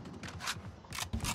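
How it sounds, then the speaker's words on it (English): A weapon reloads in a video game: a quick run of short mechanical clicks and clacks over about a second, fairly loud, with no talking. "Reloading."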